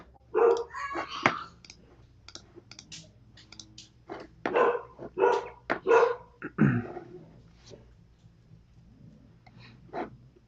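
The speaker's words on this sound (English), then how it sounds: "where's my mini golden doodle barking at right now?" A mini goldendoodle barks in a series of sharp, fairly close yaps in irregular bursts, with faint clicking like keyboard typing between them.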